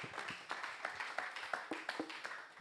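Clapping for a panel speaker at a session, a short run of distinct, fairly sparse claps in an uneven rhythm, moderately close and with no talk over it.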